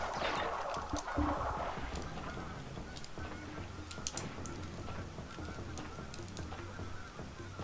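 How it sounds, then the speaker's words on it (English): Geese honk repeatedly outside, a steady stream of overlapping calls over a constant background hum, fairly loud throughout with no talk. "can you hear the geese?"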